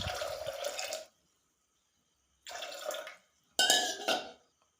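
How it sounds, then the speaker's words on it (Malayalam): Water is poured into a pressure cooker holding washed chickpeas in a home kitchen, with two or three separate splashing pours against the metal pot, close and moderately loud, broken by silent gaps. "ഇനി വേവേണ്ട വെള്ളം ഒഴിച്ചു കൊടുക്കാം."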